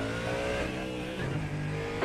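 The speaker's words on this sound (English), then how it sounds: "There's a car approaching." A GT3 race car closes in during a racing video game, its engine a steady low drone rising slightly in pitch, fairly quiet and continuous with no talk over it.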